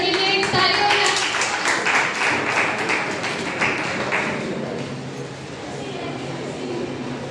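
An audience applauds at a Teachers' Day celebration of the BCA department at Thakur Prasad College in Madhepura, Bihar, with dense clapping for a few seconds that gradually thins and fades, alongside some voices.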